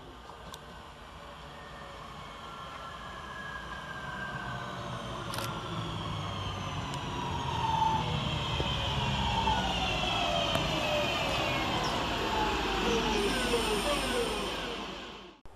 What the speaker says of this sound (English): here comes our train in the form of 323-225, working the 10:04 Northern service from Crewe to Manchester Piccadilly via